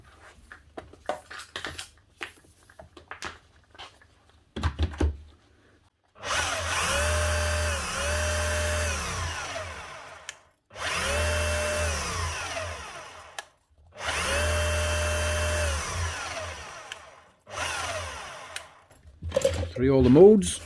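An old Hitachi DH50MR demolition hammer is run in three loud bursts of several seconds each, a steady whirring drone with separate clicks and handling noises before and between the bursts.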